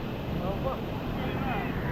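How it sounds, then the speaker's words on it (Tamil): Water falls continuously at an outdoor waterfall bathing spot, a dense steady rush with a low rumble, close and unbroken, with some wind. "நல்ல தண்ணி விழுதுட்டு"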